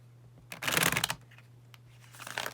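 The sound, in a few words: shuffling tarot cards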